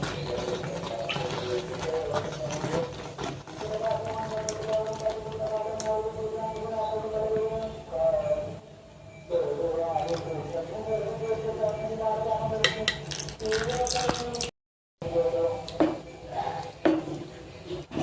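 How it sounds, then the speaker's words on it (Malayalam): Strained jaggery syrup poured into simmering rice payasam, a running, splashing liquid sound heard close under a person talking, with a short break near the end. "ഇനി ഇതിനകത്തോട്ട് നമുക്ക് നമ്മുടെ ശർക്കര പാനിയാക്കിയത് അരിച്ചൊഴിച്ച് കൊടുക്കാം"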